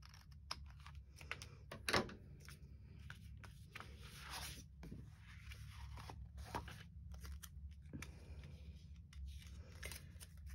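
Scissors snip paper while trimming a decorative border for a mixed media craft project, a handful of quiet, close crisp cuts and rustles against a low background hum.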